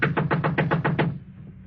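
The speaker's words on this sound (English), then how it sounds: "Knock again." Knocking on a door as a radio drama sound effect: a brisk run of seven sharp wooden raps, evenly spaced and close, then a short quiet tail.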